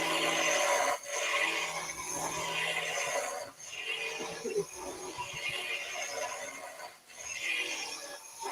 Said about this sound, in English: Let's go straight in with the skew chisel. Rough down the cylinder.